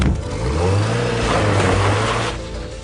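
A very small car with two British occupants drives toward a border crossing, its engine revving and humming steadily up close for a few seconds before easing off at the end.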